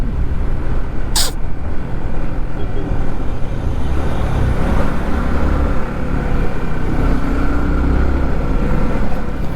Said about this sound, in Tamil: என்ன இவ்வளோ டிராஃபிக்கு?